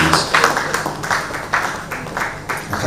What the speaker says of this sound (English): A round of applause for them as they come off stage, please.